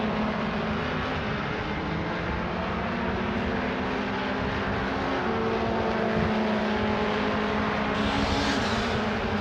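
MRF Challenge Formula 2000 race cars screaming past the timing line, a loud sustained engine howl with pitch shifts as cars pass close by, continuous throughout with no voices.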